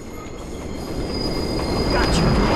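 A train rushes past in the Spider-Man 2 video game, a loud, steady rumble of wheels and cars that swells toward the end, with faint wheel squeal over the top.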